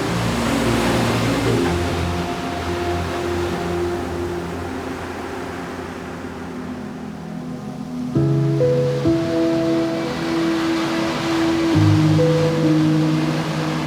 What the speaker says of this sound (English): millions of tons of water, moving with such force at the command of the wind and the moon